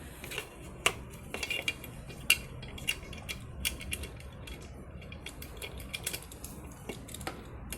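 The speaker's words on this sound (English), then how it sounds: "Now I'm gonna screw it back in." Screwing the horn back onto a Ducati 796 motorcycle makes a series of small close metallic clicks, ticks and creaks in an irregular rhythm, fairly quiet.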